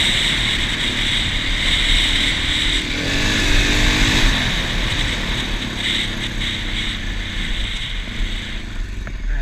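A 2024 Husqvarna FE501s dirt bike ridden in the desert, its engine droning steadily and loudly throughout with slight swells in revs, heard close up with no talk.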